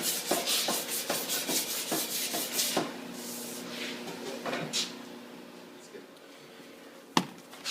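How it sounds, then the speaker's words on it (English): Rhythmic scratchy strokes of 120-grit sandpaper rubbing primer, fast back-and-forth passes that slow and thin out, ending with a sharp knock. "we sanded that with some 120 grit"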